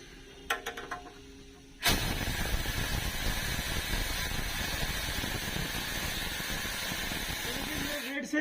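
A loud, steady rush of air vents from a bus air spring system being reset, starting abruptly after a short quiet stretch with faint clicks and continuing as a broad, sustained hiss until it tapers at the end.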